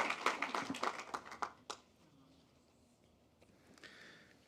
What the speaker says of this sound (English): Let's give a big round of applause to our speech and debate program.